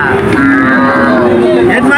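Cattle at a busy cattle market give a loud, close, drawn-out moo that rises and falls over the full two seconds.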